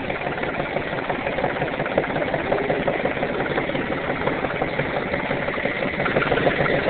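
A tractor engine idles steadily after a cold start, a loud, constant mechanical drone close by with an even texture throughout and no voices.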